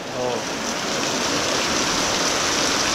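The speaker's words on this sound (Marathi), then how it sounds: "थंडवाला पाऊस आहे एकदम गारटावाला." Cold rain falls steadily in a Konkan village beside a flowing stream, a broad, even hiss of water that holds constant and fairly loud, with no talk.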